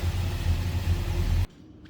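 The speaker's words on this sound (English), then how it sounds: "let's get the top up" Power convertible top of a 1968 Oldsmobile 442 raising, a steady close motor hum and mechanical whir running for about a second and a half before stopping abruptly into quiet.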